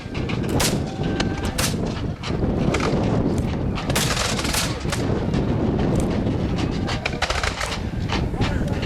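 Musket and artillery fire at a War of 1812 re-enactment of the Battle of Chippawa, staged for its 200th anniversary. Loud, dense cracks and booms follow each other rapidly, with voices faintly in the mix.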